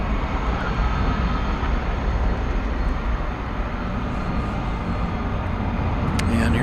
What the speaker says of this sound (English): There's this A300